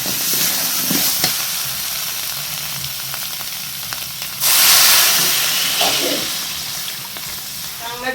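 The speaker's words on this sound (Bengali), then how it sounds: "এবার চামড়াটা ঢেলে দেবো সাথে জল দিয়ে দেবো" Fish skin tipped into a pan of spice paste with water sizzles and hisses steadily, a loud burst of steam flaring midway before settling back to a bubbling fry, close up with no talking.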